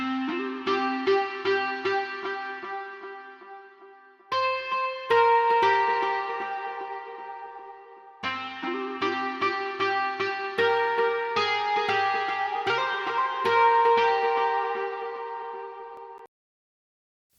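Guitar-like plucked notes play the main melody in a DAW, bright and clean, in two phrases separated by short gaps, loud and alone with no voices.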